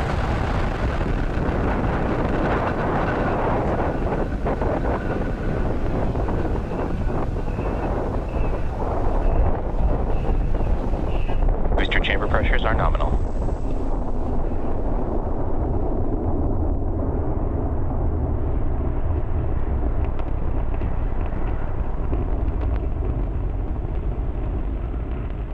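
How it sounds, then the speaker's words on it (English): A SpaceX Falcon Heavy rocket lifting off on the USSF-67 mission, heard as a continuous loud, wind-buffeted roar and crackle that shifts in tone partway through and carries on rumbling to the end. "engine full power, and liftoff of USSF 67. Go Falcon Heavy,"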